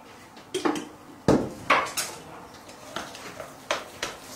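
Seasoned cabbage filling for dumplings being stirred in a bowl, with irregular clinks and scrapes of the utensil against the dish, moderately close and with no talking.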